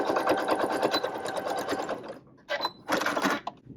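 Home sewing machine stitching fabric: a fast, rattling run of stitches for about two seconds, then two short separate bursts with pauses between them, close and clear.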